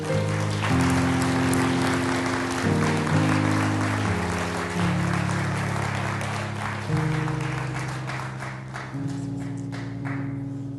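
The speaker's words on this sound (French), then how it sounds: "On les applaudit ensemble" Congregation applause for the children at a church gathering, dense steady clapping blended with loud sustained music chords throughout, fading slightly toward the end.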